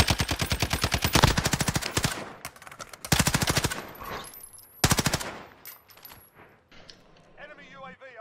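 Rapid automatic gunfire in a video game, fired as fast regular rattling bursts that come up close and loud in several separate volleys, with quieter game noise in the gaps between them.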